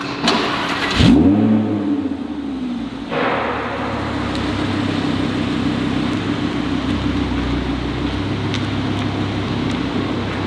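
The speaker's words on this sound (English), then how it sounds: "so you can try and hear what the stock exhaust was like." An Audi R8 V10 Plus on its stock exhaust starts with a loud bark and rev, then settles into a steady, deep idle rumble close by.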